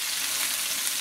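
Seared ground beef frying in a pan while being broken up and chopped, a steady close sizzle with soft scraping throughout, no talking.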